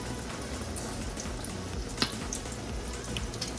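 Monte Cristo sandwiches frying in hot grease give a soft, steady crackle and sizzle with scattered pops, fairly quiet and uninterrupted by talk.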